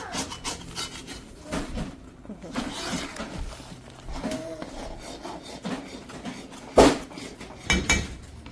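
Rough rubbing and scraping of stirring in a cooking pot as powdered milk is mixed in for homemade cow milk pera, with irregular strokes and a few louder clanks against the pot, with people talking throughout.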